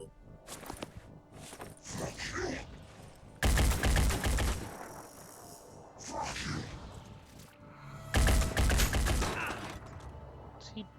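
Soldiers in the tactical game Phoenix Point fire their weapons in two loud, dense bursts of gunfire, each about a second long and spaced several seconds apart, with quieter clattering and movement sounds in between.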